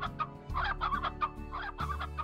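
Hens clucking in the video game Slime Rancher, a run of several short, close clucks in an uneven rhythm over a steady low in-game background hum.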